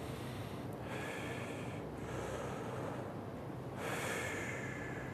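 Breathing inside a respirator mask during a fit test, with slow, hissing breaths close to the mic over steady broadband noise and no voices.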